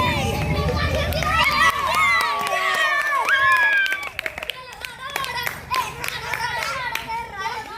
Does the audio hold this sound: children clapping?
yes